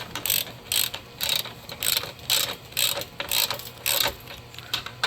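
A ratchet snugs up bolts during an engine replacement on a 2013-2016 Dodge Dart, making crisp rapid clicking bursts in a steady rhythm of about ten close strokes.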